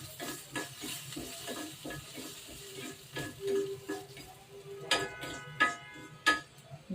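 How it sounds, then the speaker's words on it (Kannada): Fenugreek seeds sizzling and popping in hot oil in a pan over low heat, a steady close fry with scattered sharp crackles and stirring clicks. "ಈಗ ಇದಕ್ಕೆ ಇಟ್ಟುಕೊಂಡಂತಹ ಮೆಂತ್ಯಕಾಳು"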